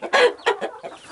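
Chickens at a double-sided feeder pecking at dry feed, close up, with a few quick clucks and short sharp bursts of pecking and scattering over about a second, no speech.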